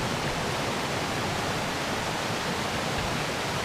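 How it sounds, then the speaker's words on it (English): A small cascade on Rock Run creek, a steady close rush of falling water filling the whole clip as an even, unbroken wash with no voices. "Further down Rock Run and we run into this real nice little cascade here."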